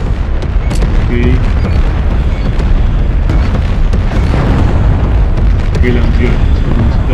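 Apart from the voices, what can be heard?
artillery strike explosions in a video game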